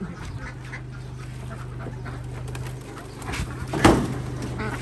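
Egg-laying ducks quack several times over a steady low hum, with one louder honk near the end, during a delivery in Pakse, southern Laos.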